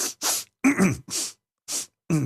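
A person imitates coughing with a run of short, breathy, throaty bursts, irregular and close, separated by brief pauses.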